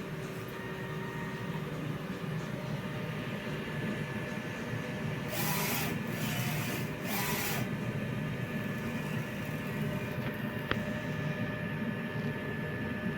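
A DTF printer works through a head clean and test print, a low steady mechanical whir with two brief brighter swishes of the head moving midway and a faint click near the end.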